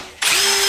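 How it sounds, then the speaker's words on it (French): A power drill starts abruptly and spins steadily at close range with a constant high whine, heard during an engine rebuild on a DT 86 stunt motorcycle in a garage. "on va terminer avec la perceuse"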